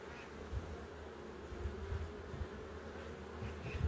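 Honeybees at an open beehive while queen bees are being handled, a faint, continuous buzzing drone with occasional louder passes of bees flying close, no voices.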